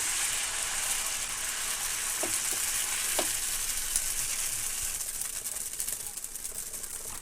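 Onion dosa fries on a hot pan over a stove in a steady, even sizzle throughout, with a few faint clinks from the utensil. A quiet voice may sit low underneath.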